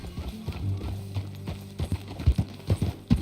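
Horse hooves clip-clop at a walking pace in the Red Dead Redemption 2 video game, an uneven run of close, soft thuds that grow firmer toward the end, with faint talk in the background.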